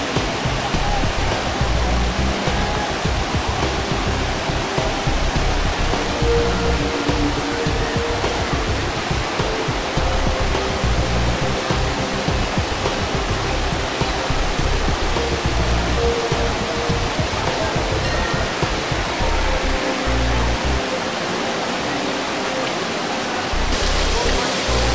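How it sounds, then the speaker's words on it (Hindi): Water rushes over limestone rocks at the Sahastradhara sulphur springs near Dehradun in the Himalayan foothills, a loud, steady, unbroken roar of flowing water with no voices. "चूना पत्थर की चट्टानों से बहकर पानी सल्फर के झरनों में परिवर्तित हो जाता है।"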